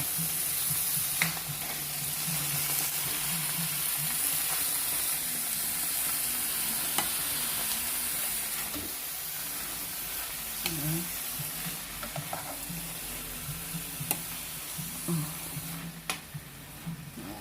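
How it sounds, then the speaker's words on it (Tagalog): Radish and chicken liver sautéing in a pan give a steady loud sizzle with occasional stirring scrapes, and the frying eases off partway through. "Gisa lang natin yun guys."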